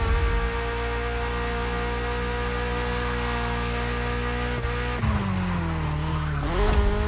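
A 1982 BMW E30 3 Series in The Crew Motorfest drones along at steady revs, then the engine note drops and swings as tires squeal and skid through the final seconds, loud and close.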